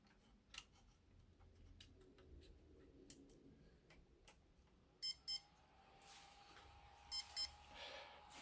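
A Tronxy 3D printer being flashed with Marlin firmware gives short, faint electronic beeps, two quick pairs near the end, after scattered quiet ticks and clicks in a hushed room.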